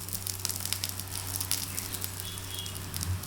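Beetroot masala dosa frying in oil on a pan, a soft steady sizzle with light crackling pops, close and fairly quiet, heard alone under a low background hum.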